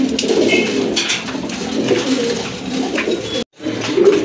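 An Andalusian colour pigeon pair and nearby birds coo loudly and close, repeated throaty rolling calls over a busy background, cut by a brief dropout near the end.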